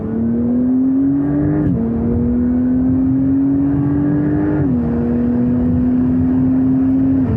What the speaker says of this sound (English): I use the shifting pedals now myself, go back to third gear for example, and then I can accelerate out